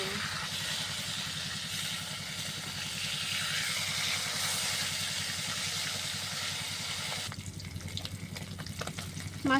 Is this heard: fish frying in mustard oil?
yes